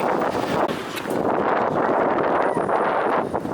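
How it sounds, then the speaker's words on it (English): Steady, heavy wind rushes and buffets the microphone throughout, a constant broadband roar with no other clear sounds. "it's very windy because of the road"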